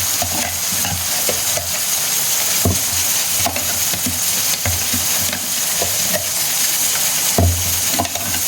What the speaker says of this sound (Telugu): ఇది ఫ్రై చేద్దాము